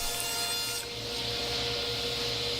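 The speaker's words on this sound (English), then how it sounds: "I'll take the sheet goods, in this case a piece of 3/8 inch birch plywood, and I'll cut it into a piece approximately 18 inches square" Sawing through a sheet of 3/8 inch birch plywood, a steady close rasping cut that runs continuously without pause.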